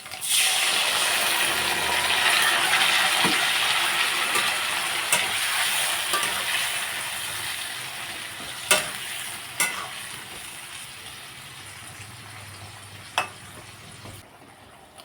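A paste of tomato, cumin, coriander, five green chillies and onion hits hot oil for a Bhagna fish curry, sizzling loudly at first, then settling into a softer fry punctuated by a few sharp utensil clinks.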